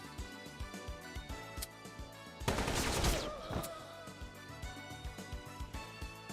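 Rapid gunfire and a loud burst of explosive blasts from the Metal Slug Tactics video game, playing over a steady game music soundtrack with rhythmic beats.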